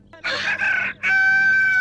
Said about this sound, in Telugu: అప్పుడే కోడి కూసిందా?